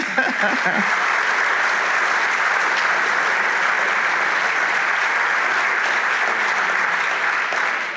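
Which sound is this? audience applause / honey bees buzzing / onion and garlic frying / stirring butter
audience applause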